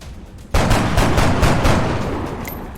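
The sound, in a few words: gunshot in the video game XCOM Enemy Unknown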